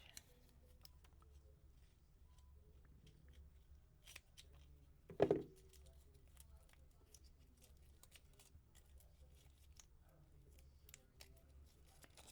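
Scissors cut once with a short, sharp snip in a quiet room while crafting with resin, surrounded by faint clicks and light handling noise.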